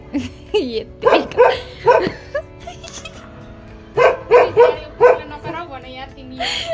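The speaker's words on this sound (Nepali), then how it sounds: "म यो कुकुरलाई पनि थर्काउँछु" A dog barks and yips repeatedly in short bursts nearby, loud and clear, with a few pauses between groups of barks.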